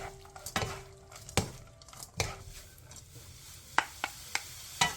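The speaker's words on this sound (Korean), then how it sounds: "명엽채에 양념이 골고루 묻을 수 있게 2분 정도 골고루 뒤적여주세요" Dried filefish strips are stirred through a bubbling sauce in a pan, a quiet simmering sizzle broken by a string of sharp spatula knocks and scrapes, several clustered toward the end.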